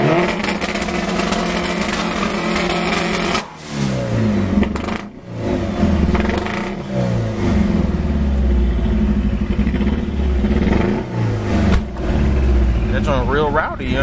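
An 800+ hp Mitsubishi Evo 8 engine roaring loud and close, sustained revving with rising and falling pitch sweeps and brief dips between pulls, while people talk over it.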